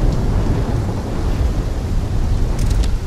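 Heavy thunderstorm in the video game Call of Duty: Black Ops III, a steady loud roar of rain and wind with deep rumbling throughout, no voices.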